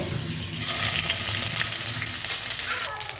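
Ginger and garlic paste fry in hot oil in a pan, giving a steady bright sizzle with some stirring noise throughout.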